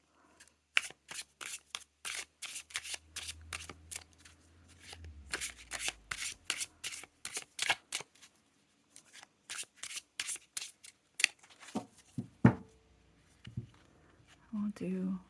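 Abstract Futures Tarot cards shuffled by hand in repeated rapid riffling bursts, close and crisp, with brief pauses between runs and quiet speech at times.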